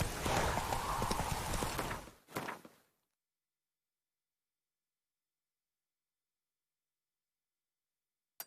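Horse hooves clip-clopping at a gallop in the video game The Witcher 3, loud and rhythmic for about two seconds, then cutting off into silence, with a brief click near the end.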